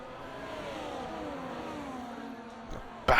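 Formula 1 race cars in the F1 24 video game at the Austrian GP, engines droning steadily and whining as they pass, with a sharp louder burst right at the end.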